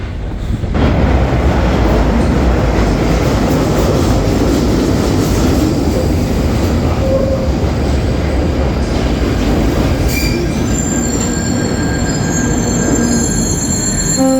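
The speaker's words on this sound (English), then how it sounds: "this train is ready to depart" A London Underground train at an old station platform, its wheels squealing and the carriages rumbling loudly and steadily throughout, with a few faint higher whines near the end and no one talking.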